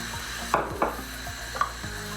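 Onion stirred as it fries in rapeseed oil for tomato soup, a soft steady sizzle with a few sharp utensil scrapes against the pan.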